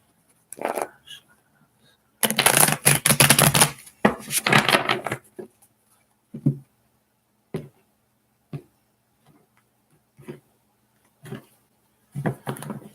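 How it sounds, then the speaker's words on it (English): Tarot cards rustle and riffle in a long burst, then come several short, soft taps and flicks spaced a second or so apart, all close by and quiet. "one more shuffle, Ashley."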